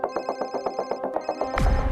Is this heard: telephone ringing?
yes